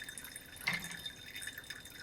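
Water drips into a glass of absinthe as it turns cloudy: faint, close little drips and trickles, one clearer drop standing out early.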